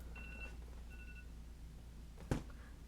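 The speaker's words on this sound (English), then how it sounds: "That was my timer for something I put in the oven" Oven timer beeping in a home kitchen: two short bursts of thin high electronic beeps near the start, fairly faint over a steady low hum, followed later by a brief louder knock.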